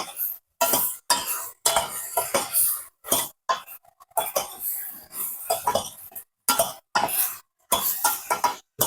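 A spoon stirs ridge gourd milk curry with turmeric in a pot on a medium stove, making close, repeated scraping and clinking bursts in an uneven rhythm with short pauses between strokes and no talk.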